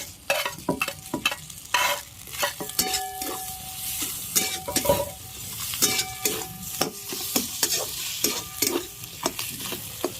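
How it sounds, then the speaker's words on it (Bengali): Fried fish head stirred into a pan of fried coconut and green chillies, giving a continuous crackling sizzle broken by repeated scrapes and clanks of a spatula against the pan, up close with no talking. "নারকেলটা ভাজা ভাজা হয়ে গেছে, এবার মাছের এই মাথাটা ভেজে রেখেছিলাম সেটা দিয়ে দিচ্ছি"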